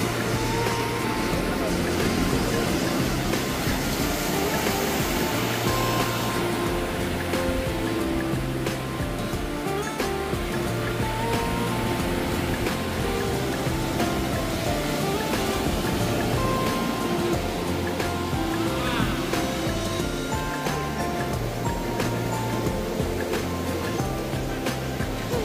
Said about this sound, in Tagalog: Lalaki ng alon, malon.